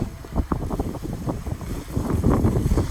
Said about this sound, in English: you'll hear wind and water